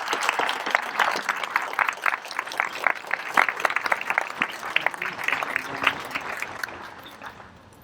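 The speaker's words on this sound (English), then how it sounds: "Please join me in giving these girls a round of applause." An audience applauds graduates at a high school graduation ceremony, with dense, steady clapping from a large crowd in a hall that thins and fades out toward the end.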